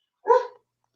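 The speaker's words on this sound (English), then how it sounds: "That's my dog." A pet dog gives a single short, muffled bark or yip, close by, with silence before and after.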